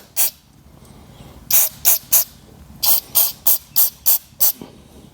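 A can of mass airflow sensor cleaner sprays on a Duramax LP5 engine part in a string of short hissing bursts: one alone, then a quick cluster of several spurts, close up and without speech.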